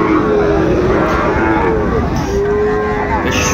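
A Sahiwal bull calf moos repeatedly at a busy cattle market, drawn-out lowing calls close by over a dense, constant crowd murmur.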